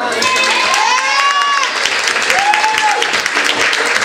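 A Filipino audience at an event in Japan applauds and cheers in a dense, continuous wash of clapping, with excited voices and shouts rising over it, loud and close.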